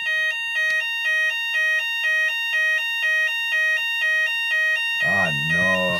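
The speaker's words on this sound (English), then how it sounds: "Looks like we might have to have a little bit of a pause there, ladies and gentlemen. We have a fire alarm." A fire alarm rings loud and close in a steady repeating pattern of two-tone electronic pulses, about ten cycles, before a voice begins talking over the final second.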